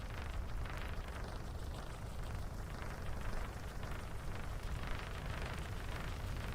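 Steady rain pours in the game Pennycress, a dense, even hiss of drops that holds at the same level throughout, with no voices over it.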